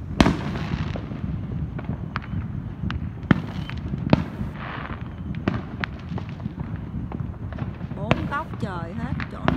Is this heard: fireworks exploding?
yes